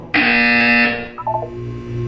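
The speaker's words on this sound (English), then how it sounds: "When you hear the buzzer, look down at the floor." A loud electronic buzzer from the Portal 2 test chamber sounds in one steady, harsh tone for about a second, then cuts off, leaving softer mechanical tones and a low hum.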